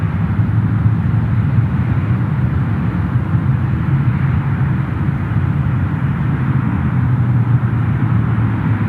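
FedEx jet climbing steeply after takeoff from Memphis International Airport, a loud continuous low engine roar with a steady hum, no voices over it.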